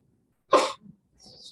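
A single sharp sneeze bursts out once, fairly close, followed by a brief faint breath and quiet room tone.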